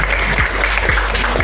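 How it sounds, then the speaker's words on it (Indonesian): A school class claps together during a lesson, a close, fairly loud burst of many hands with some slightly sharper individual claps standing out over a low background hum. "Mari kita tepuk tangan"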